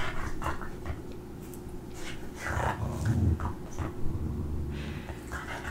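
Dogs wanting to play make soft whimpers, panting and low grumbles over a steady background hum, with occasional scuffling. The sounds are close but fairly quiet, and there is no talk.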